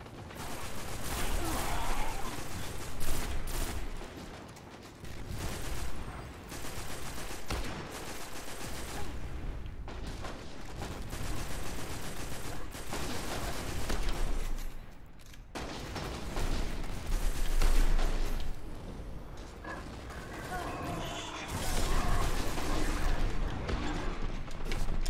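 Sustained video game gunfire in Destiny, with dense bursts of automatic fire and heavy blasts rolling across the whole stretch and brief lulls between volleys.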